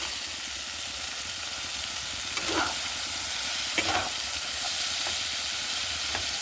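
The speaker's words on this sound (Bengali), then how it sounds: "এবার দিয়ে দেবো সেই ভাজা ডালের বড়িটা।" Fried lentil dumplings (bori) are stirred into a hot pan of frying potato curry, a constant loud sizzling hiss broken by a few scraping stirs, close up and without voices.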